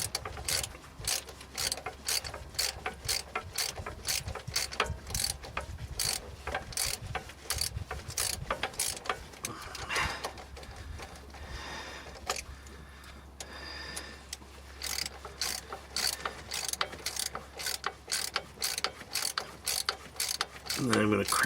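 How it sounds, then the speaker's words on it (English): A wrench ratchets u-joint bolts snug on the front axle of a 2008 Ford F250 diesel Super Duty, with rapid close metallic clicks in bursts and short pauses between them. "I'll use the wrench to finish it up. I'm just gonna make these snug first."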